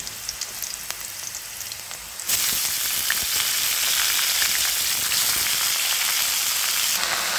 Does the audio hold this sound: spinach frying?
yes